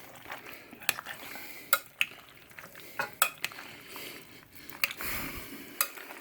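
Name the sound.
stirring potato salad with a tablespoon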